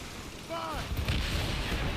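Ship cannons in the naval battle game Assassin's Creed Rogue boom in a rolling, sustained barrage of heavy low blasts, loud and continuous, with a brief whistling tone early and battle noise throughout.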